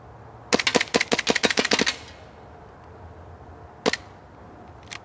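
A WE Warrior airsoft M1911 pistol firing: a rapid string of about a dozen sharp, close cracks in quick succession, then a pause and a single louder shot, followed by a faint later click.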